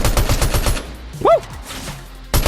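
A tracker pistol in a video game fires a rapid burst of sharp, close, loud shots, then a whooshing sweep and quieter game sounds before another burst at the end.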